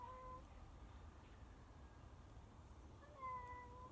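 A cat meows indoors, two quiet drawn-out meows, one at the start and another near the end, with near silence between them.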